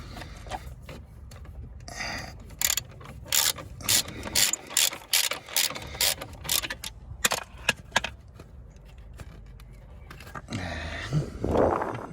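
Ratchet clicking in repeated bursts of short strokes as 18 mm caliper carrier bolts are undone on a Ford Mondeo Mk4 front brake, loud and close with brief pauses between pulls.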